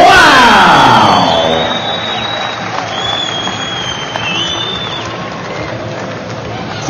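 Loud boxing arena crowd cheering and roaring after a close fight between Julio César González and Reggie 'Sweet' Johnson, a dense sustained wall of voices with whoops, fading slightly after the first second and continuing steadily.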